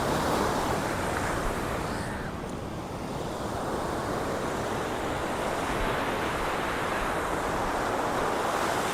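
Ocean waves wash steadily onto a Kerala beach, a continuous broad roar of surf with wind gusting across the microphone, fairly constant throughout.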